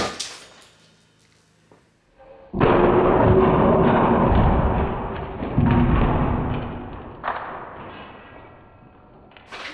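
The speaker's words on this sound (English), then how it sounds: "we're just gonna keep dropping blocks on it until it falls apart." Heavy cinder blocks crash down onto an Alexa smart speaker, giving a loud thudding impact followed by rumbling and rattling debris, then a second heavy drop and a later, smaller knock as the noise fades out.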